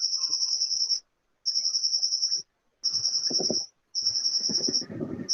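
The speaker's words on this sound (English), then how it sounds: "It's like a cricket." High-pitched, cricket-like electronic chirping comes in four steady bursts with short silent gaps, with some faint clattering noise in the later bursts.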